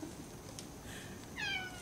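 A cat lets out a single short meow near the end, fairly close, after a stretch of faint background noise.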